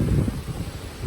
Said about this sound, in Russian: Ветер когда-нибудь утихнет?